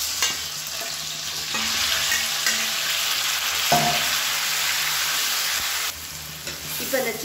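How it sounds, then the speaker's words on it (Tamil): Marinated chicken sautés in ghee with browned onions for biryani, giving a steady close sizzle and frying crackle with occasional stirring scrapes throughout, no talking. "இப்போ இந்த சிக்கனை சேர்த்து நல்லா எண்ணெய் பிரிஞ்சு வர அளவுக்கு வதக்கிக்கலாம்."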